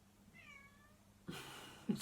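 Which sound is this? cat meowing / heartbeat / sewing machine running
cat meowing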